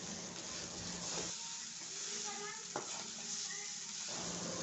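Crumbled idli is mixed with egg in a hot pan, giving a soft, steady sizzle broken by scraping stirs and a few sharp spatula taps, fairly quiet and close, with no voice.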